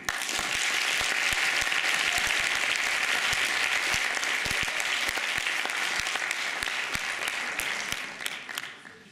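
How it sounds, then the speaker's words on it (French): An audience at a student eloquence competition final applauds, dense steady clapping that stays loud and fairly close before fading out at the end. "vous pouvez l'applaudir"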